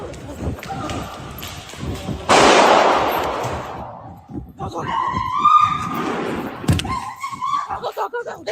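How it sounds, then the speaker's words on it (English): Gunfire during a mall shooting, with a loud burst of sharp cracks and rumbling reports, followed by frantic shouting and panicked voices close by. "here is the footage of the shooting that took place just a few hours ago"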